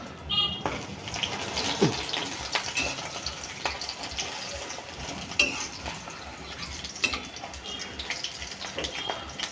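Fritters frying in hot oil give off a continuous loud sizzle and crackle, with a few sharper clinks, while a voice talks at times over the frying.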